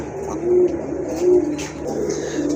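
Low pigeon coos repeat in a steady rhythm over a constant background hum, moderately close with no talking.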